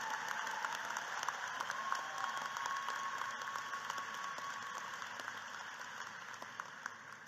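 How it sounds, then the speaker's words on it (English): A commencement audience applauds master's degree graduates, a soft, distant wash of many hands clapping that stays steady and fades slightly toward the end, with no talk. "Let's give these scholars one more round of applause for their significant accomplishment."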